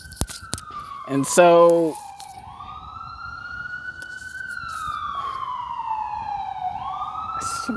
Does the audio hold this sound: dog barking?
no